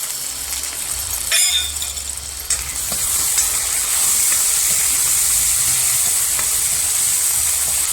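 Tempering sizzling loudly in a hot pan for a ridge gourd curry, with ginger-garlic paste, a steady close frying hiss that swells louder partway through, with faint stirring clinks.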